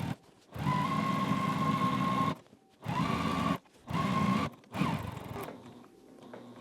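Sewing machine back stitching fabric, a steady whirring hum in three runs separated by brief stops, with a fainter trailing run at the end.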